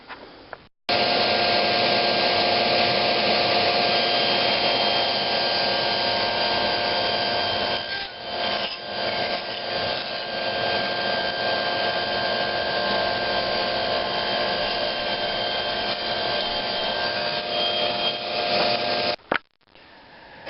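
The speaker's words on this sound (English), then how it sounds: "for the last ripping operation, the only things I did was move the fence a little bit closer to the blade and lower the blade." A table saw rips wood into picture frame molding with the fence set near a lowered blade, giving a loud, steady whine and cutting roar for about eighteen seconds, dipping briefly midway before the cut ends.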